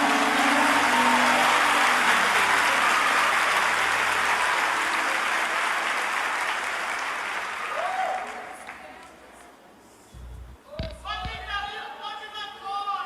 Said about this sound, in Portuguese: Se um aplaudir, tu aplaude, que é para não deixar ele no vácuo